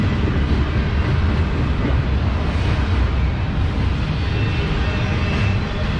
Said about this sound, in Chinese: 这火车挺猛的，拉的都是集装箱。